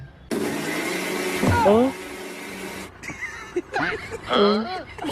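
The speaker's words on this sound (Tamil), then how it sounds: "என்ன மிக்ஸி ஓடுது?" A harsh, steady whirring motor like a mixer grinder runs loudly, cuts off, then people talk and exclaim in short bursts.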